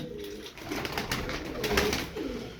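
Tumbler pigeons cooing close by, a soft continuous murmur of low calls with slight swells, no talk over it.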